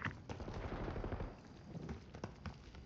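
Video game gunfire chatters in quick automatic bursts, a steady uneven stream of muffled, fairly quiet shots with a few sharper cracks standing out, unbroken by talk.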